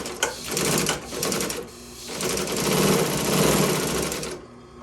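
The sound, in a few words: sewing machine stitching a test piece of upholstery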